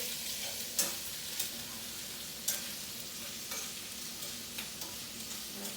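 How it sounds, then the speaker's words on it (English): Shrimp and broccoli stir-fry in sesame oil sizzles steadily in a pan, broken by several sharp scrapes and clatters of stirring, close and moderately loud with no talking. "Let me stir this right quick."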